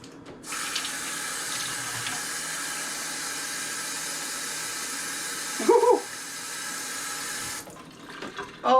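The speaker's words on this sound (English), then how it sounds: "All I did was fill it up with water." Tap water pours steadily into a large-opening sausage casing for bologna, a continuous rushing hiss that runs for several seconds, broken briefly by a bump and a short sound before stopping near the end.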